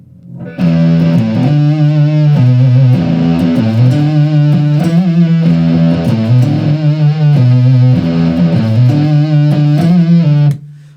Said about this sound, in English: You just heard fuzz, you heard distortion